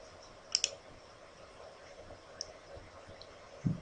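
A computer mouse clicking a few times, sharp quiet double clicks near the start and a few more later, close up over faint room hiss with no talking.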